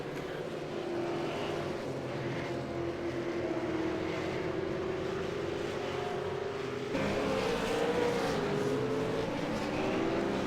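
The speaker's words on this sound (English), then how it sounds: "The V8's an awesome sounding car here as well." V8 Supercar engines racing at Phillip Island in the iRacing simulator, a sustained engine drone rising and falling in pitch as cars lap, with a sharper shift partway through, moderately loud and without commentary.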